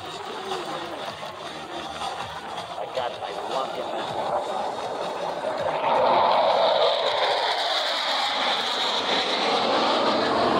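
Blue Angels jets roar overhead at a Key West Naval Air Station air show, a loud sustained engine rush that swells as they pass, with an announcer talking throughout.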